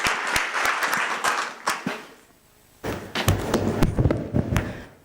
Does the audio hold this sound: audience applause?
yes